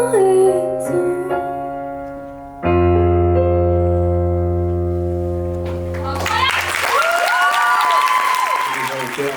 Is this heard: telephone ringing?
no